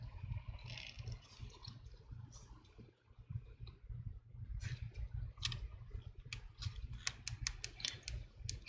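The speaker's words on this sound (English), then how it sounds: "Now I can feel the clicking sound to that" Soft, close clicks from the power button of a Lenovo Yoga 6 laptop as it is refitted, a few sharp ticks toward the end over a steady low hum.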